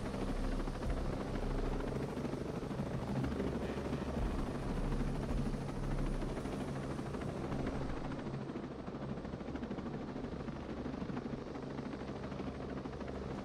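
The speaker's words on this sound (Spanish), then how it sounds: "Dejan abajo la montaña, el puto helicóptero" A helicopter in the video game Tom Clancy's Ghost Recon Breakpoint, parked in a puddle of water, gives a loud, steady rotor thrum and engine whine that runs throughout and eases slightly in the second half.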